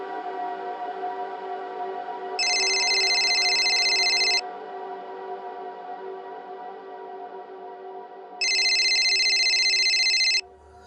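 A phone rings in two separate bursts a few seconds apart, each lasting about two seconds, sounding over a steady tonal music bed in a domestic drama scene.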